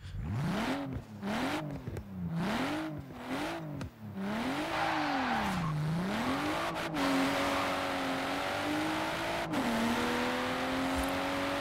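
A BMW M4 in the racing game Forza Horizon 4 revs repeatedly, its engine pitch swooping up and down in quick blips before settling into a sustained higher drone, loud and up close with no talking.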